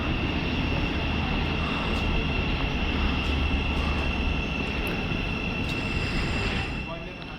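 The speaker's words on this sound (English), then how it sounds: "Oh, is that the Class 717?" A British Rail Class 717 electric train passes near Alexandra Palace, a constant broad roar and rumble with a steady whine that fades slightly toward the end, with some voices underneath.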